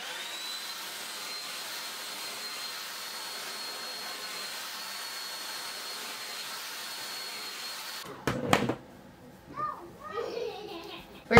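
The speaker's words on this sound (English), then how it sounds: "We're gonna blow dry now." A hair dryer blowing on hair runs as a steady whining hum for about eight seconds, then cuts out and is followed by clicks and brief voices.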